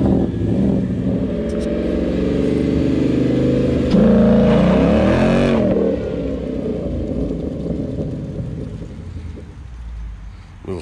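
A street car on street tires launches hard at a drag strip, the engine revving high and loud for several seconds with a rising surge mid-run, then fading as it pulls away; no talking.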